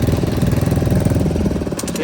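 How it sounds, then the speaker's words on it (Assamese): A motor boat engine on Chilika Lake, a large salty lagoon, chugs loudly and steadily in fast rhythmic pulses, close by with no voices over it. "এই আমাৰ নাও ষ্টাৰ্ট দিছে"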